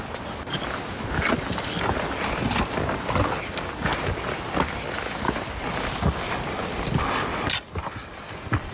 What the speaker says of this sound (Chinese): 风声、脚步声、喘的声音